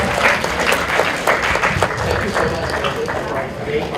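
An audience at a panel discussion on LGBT topics claps steadily and fairly close throughout, with voices speaking over the applause.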